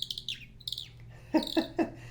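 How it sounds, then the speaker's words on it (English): A hand-made bird call, a cast zinc plug twisted against a painted birchwood base, gives a few thin high chirps, then three louder squeaky chirps in quick succession over a low steady hum, with no talking. "Just twist the cast zinc plug against the painted birchwood base to attract any songbirds in your neighborhood."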